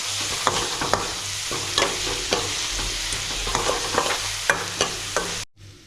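Spice tempering with turmeric and very little oil is stir-fried on a wood-fired chulha, a steady close sizzle broken by repeated sharp scrapes of a spatula against the pan, then a sudden cut to quiet.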